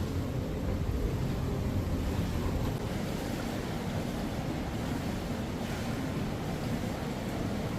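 Indoor hotel swimming pool with a jacuzzi hot tub at Disneyland Paris's Hotel New York gives a steady, dense rushing water ambience, even and unbroken throughout, with no voices.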